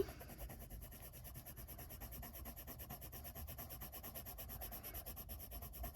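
Polychromos colouring pencils burnish and blend on paper in a steady, quiet rubbing scrape with a fast back-and-forth rhythm, close and continuous throughout.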